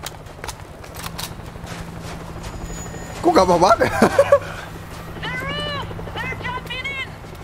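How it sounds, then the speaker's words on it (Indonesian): Helicopter arriving in the zombie shooter World War Z: a steady rotor drone runs beneath game effects and someone speaking, fairly loud throughout. "Helikopter datang, siap-siap ini."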